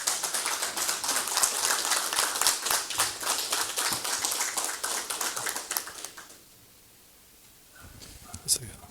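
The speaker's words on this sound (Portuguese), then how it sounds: "Eu peço uma salva de palmas aqui ao nosso novo..." A council chamber applauds a newly seated councillor, brisk clapping from a modest group for about six seconds before it cuts off into quiet, followed by a few faint knocks.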